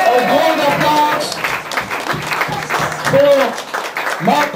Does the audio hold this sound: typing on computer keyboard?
no